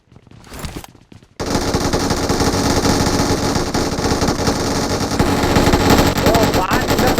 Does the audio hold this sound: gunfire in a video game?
yes